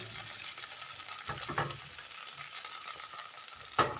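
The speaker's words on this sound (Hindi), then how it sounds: "ऑयल के साथ आप इनको फ्राई करेंगे। मिर्चों को फ्राई करते हुए आप देख सकते हैं इनके ऊपर वाइट वाइट कलर आ गया।" Green chilies frying in hot oil in a pan for a garlic and green chili paratha, giving a steady low sizzle with soft stirring scrapes and a sharper clink near the end, no voices.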